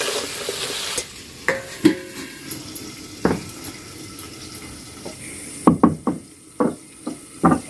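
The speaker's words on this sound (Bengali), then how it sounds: "লবণ হলুদ দিয়ে কচুরমুখিটা খুব ভালো করে কষে নেব।" Cut taro root is stir-fried with salt and turmeric in a pan, with a soft sizzle beneath repeated scraping and knocking strokes of a spatula, some sharp and close.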